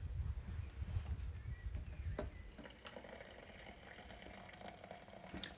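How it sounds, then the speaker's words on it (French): Boiling water poured into a creamy hot chocolate preparation, a steady soft liquid stream with splashing that starts loud and low, then continues as a thinner trickle for several seconds, with no voices. "Et là, on va rajouter du coup de l'eau bouillante."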